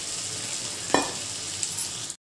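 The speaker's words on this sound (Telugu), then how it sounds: "ఉడకబెట్టిన అరటికాయ చిన్న చిన్న ముక్కలుగా కట్ చేసుకుని ఈ నూనెలో వేసుకుని వేపుకోవాలి" Boiled raw banana pieces fry in hot oil in a pan, a soft steady sizzle with a brief louder crackle near the start before cutting off abruptly.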